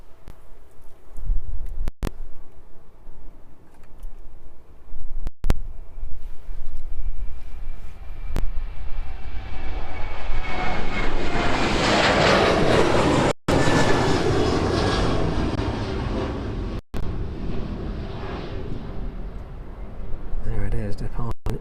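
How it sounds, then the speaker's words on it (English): Jet2 airliner on its takeoff roll from runway 27 at East Midlands Airport on a cloudy evening, a jet roar swelling from distant to loud and close as it passes, then fading slowly, with wind buffeting the microphone. "Initiating its takeoff roll, making its way down towards us now."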